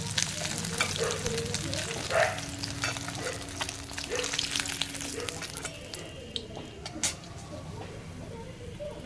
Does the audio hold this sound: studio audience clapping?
no